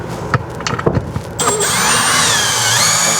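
A drill drives screws into an RV awning bracket. A few short clicks and knocks come first, then a steady, fairly loud whirring run to the end.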